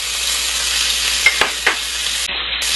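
Butter sizzles in a frying pan with onions, a loud continuous frying hiss close up, punctuated by a few soft clicks and scrapes of stirring, with no voices.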